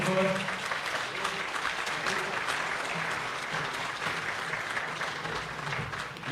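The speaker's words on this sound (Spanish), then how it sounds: "un aplauso, por favor." A political education gathering bursts into applause to welcome an arriving speaker, sustained clapping from a crowd with a voice briefly audible at the start and low murmurs beneath.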